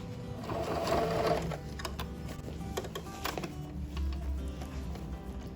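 Sewing machine stitching a wide hem on a small fabric piece for a PET-material bag, a steady mechanical whir that surges and slows in bursts, close and fairly loud.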